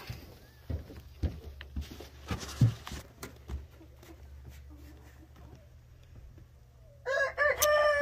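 Scattered chicken clucks and rustling with a few faint voices on a desert chicken farm, then a loud rooster crow rings out near the end.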